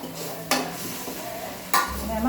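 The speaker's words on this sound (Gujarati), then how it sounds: "આ રીતે મસ્ત મેથીને તેલમાં ચડવી લેવાની" Fenugreek leaves (methi) cooking in oil in a pan for a methi-matar dish, with a steady broadband sizzle and two sharp utensil scrapes against the pan, close and fairly loud.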